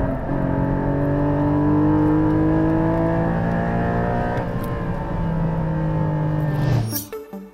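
A Honda Civic Type R Limited Edition engine pulls hard through the revs, its pitch climbing steadily, then drops sharply at a gear change near the end. The sound stays loud and close throughout.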